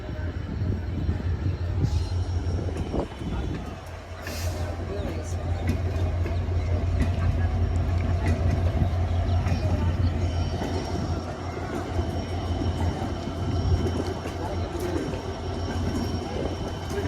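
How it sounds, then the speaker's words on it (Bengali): Silk City Express pulling out of Jadabpur junction on an afternoon run, a steady loud rumble of the train with a sharp knock near the start, pigeons cooing nearby and voices talking over it. "রাজশাহী অভিমুখী সিলচিটি এক্সপ্রেস যাদবপুর জংশন ছেড়ে গেল।"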